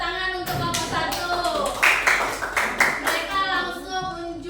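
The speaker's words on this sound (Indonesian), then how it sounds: "Ya, berikan tepuk tangan untuk kelompok satu." Classroom students clap for the first group about to present, a burst of sharp, fairly close claps with children's voices chattering underneath and over it.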